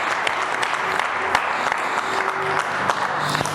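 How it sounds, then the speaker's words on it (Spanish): A church congregation claps together during a Christmas sermon, giving a steady round of applause with a few sharper individual claps. "Den un aplauso al Señor Yeshua."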